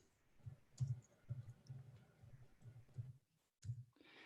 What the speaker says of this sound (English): let me type in a little message here